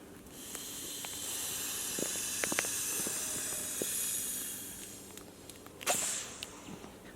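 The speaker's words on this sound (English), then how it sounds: "So I squeeze it with my Leatherman to just kind of release some air." Air rushes out of an inflatable solar lantern's valve as it is squeezed open with a Leatherman multitool, a soft, sustained hiss lasting several seconds, then a few small clicks and a brief sharper rustle near the end.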